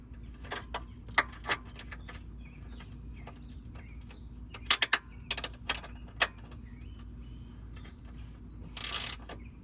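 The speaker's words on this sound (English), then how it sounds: "I'm gonna put a wrench, and on the other, the ratcheting socket," Quiet, sharp clicks from a ratcheting socket working a control arm bolt on a BMW E92 335i, scattered irregularly in short bursts against low background hum and faint birdsong, with no talking.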